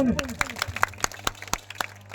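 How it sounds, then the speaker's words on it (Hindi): A village gathering gives scattered, fairly sparse handclaps that sound one after another in a loose, uneven rhythm, with a voice heard at the start. "जोरदार ताली बजा दीजिए पहले"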